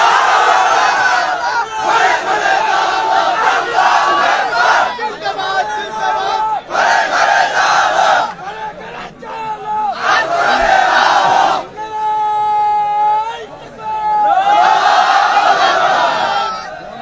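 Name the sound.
crowd chanting takbir (Allahu Akbar) at rally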